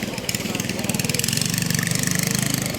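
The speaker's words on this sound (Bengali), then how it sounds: "আমার বোট চলে আসছে" A boat engine draws closer on a river on the way to Remakri, its steady pulsing drone loud and continuous throughout, with people talking over it.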